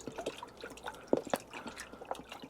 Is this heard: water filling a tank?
yes